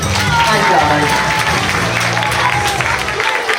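An audience at a live science show applauds volunteer Troy with steady, dense clapping that carries through the whole stretch, while someone speaks over it.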